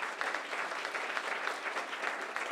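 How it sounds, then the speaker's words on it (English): Fall 2022 graduates at a community re-entry program ceremony applaud, a steady, even patter of many hands clapping at moderate distance, fairly quiet throughout. "Give yourselves a round of applause."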